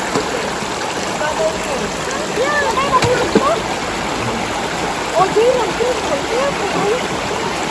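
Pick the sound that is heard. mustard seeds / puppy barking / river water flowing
river water flowing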